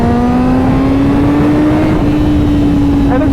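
A Honda CBR 1000RR-R Fireblade SP accelerating hard after a downshift into third gear, its loud engine note climbing steadily in pitch throughout.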